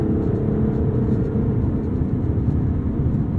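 An Aston Martin DB11 with a V12 engine on the move: a deep, steady engine rumble and road roar, loud and unbroken throughout with no talking.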